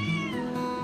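Three-month-old shelter kittens let out a loud, close, drawn-out meow with a wavering, high-pitched tone.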